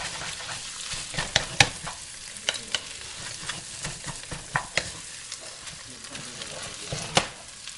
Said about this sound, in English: so you want to keep stirring it and keep stirring it